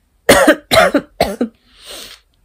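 Four harsh coughs in quick succession, close and loud, followed by a softer breathy exhale.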